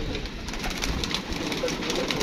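Pigeons coo softly on a roof amid steady outdoor background noise, with faint bird calls and a distant low rumble throughout.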